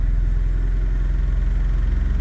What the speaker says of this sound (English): It's idling normally-ish.